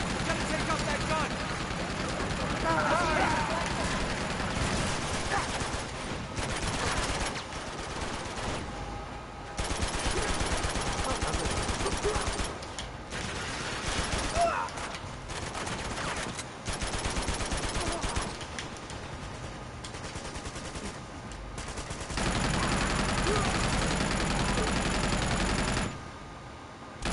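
Sustained bursts of automatic enemy gunfire in the action game Uncharted 2, loud rattling volleys that start and stop repeatedly, with characters talking in between and over the shooting.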